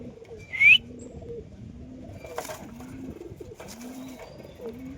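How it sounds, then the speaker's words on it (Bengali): Giribaz pigeons kept at a house coo in a steady repeating pattern of low, soft calls, with a brief sharp chirp near the start and quiet background noise. "কবুতরের কোয়ালিটি দেখো, আমার বাড়ির কবুতর।"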